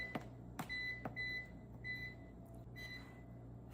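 An air fryer's control panel sounds a run of short, thin electronic beeps, about six spaced unevenly across a few seconds, as its temperature is set to 350, over a steady low hum in a quiet kitchen.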